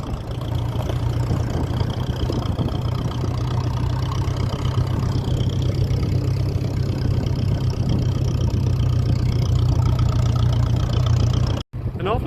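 A 1957 Ferguson 35 tractor with a TVO engine idles steadily nearby, a low even throb that runs without change and cuts out for an instant near the end.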